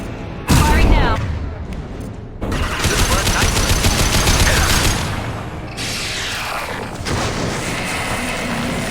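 Gunfire from the video game Mass Effect 2, loud booming bursts and rapid clattering volleys with heavy low rumble, a sudden blast near the start, then sustained firing and mechanical noise.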